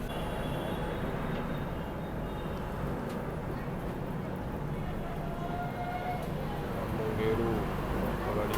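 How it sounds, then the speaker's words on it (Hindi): Vikramshila Express rolling into Jamalpur Junction station, a continuous low rumble of wheels and carriage noise with faint distant voices and occasional higher squeals, steady and moderately loud throughout. "अपनी ट्रेन पहुंच चुकी है जमालपुर जंक्शन रेलवे स्टेशन पर एंटर करने वाली है।"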